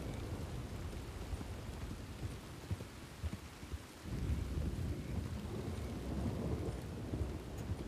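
Steady rain falls close by with low rumbling thunder rolling underneath, swelling a little partway through, faint overall and without voices.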